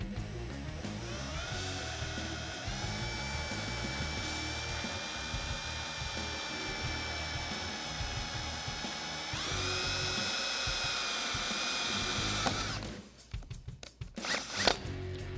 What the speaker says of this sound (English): repeat that process by drilling and installing the riv nut